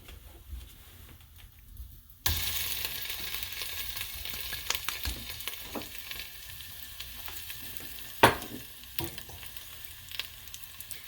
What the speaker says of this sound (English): this is caramelizing the miso with the ginger infused fat of the chicken